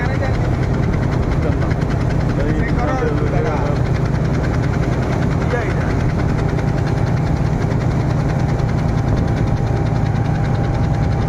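Heavy diesel throb of a port tugboat working against a very large ship, a steady low rumble with knocking vibration that stays loud and constant, with faint voices underneath.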